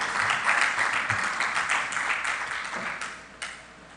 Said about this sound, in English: Continue clapping for her until she sits.